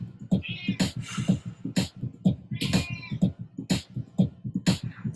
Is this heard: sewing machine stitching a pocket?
no